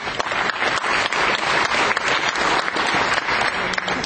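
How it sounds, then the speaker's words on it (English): Audience applause at a business event in Dallas, a dense, steady wash of many hands clapping close and loud throughout, with no voices over it. "Applause to this person."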